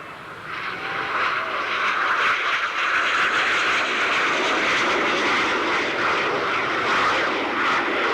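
A fixed-wing aircraft flies an aerobatic maneuver at an airshow, its engine a loud, sustained roar that swells slightly and holds steady throughout.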